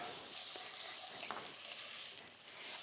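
Chilli, garlic and ginger hiss steadily in a hot pan as they are stir-fried for a Thai chicken soup, a close, even sizzle with a couple of faint utensil scrapes.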